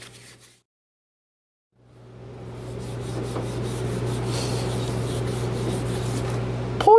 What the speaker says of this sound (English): A little bit more aggressive than the blue scrubby, but not so aggressive that I damage the spindle.